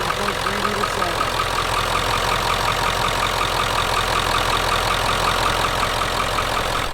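An OBS Ford truck's 7.3 liter Powerstroke diesel idles close by with a steady, evenly pulsing low rumble and a knocking clatter, running unchanged throughout with no talk.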